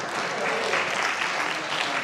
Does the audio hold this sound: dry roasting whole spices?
no